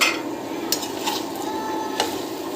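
Taro root curry fries in a pan with a steady, close hiss while a utensil stirs it now and then, a few scraping clinks standing out over the sizzle.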